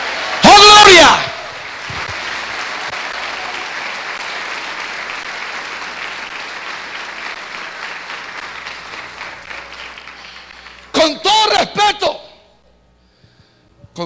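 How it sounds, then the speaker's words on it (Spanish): A church congregation bursts into applause at a Sunday-morning service, a loud sustained clapping that runs about ten seconds before fading, followed by a few short bursts of voice. "Dale un aplauso a Cristo en esta linda mañana."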